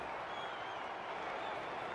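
A rugby league stadium crowd applauds and roars in a dense, continuous wash of clapping and cheering.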